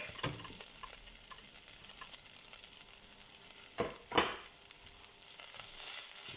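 Garlic frying in a pan for German beef goulash, a steady soft sizzle with a few sharper spitting crackles near the end, close by and without voices.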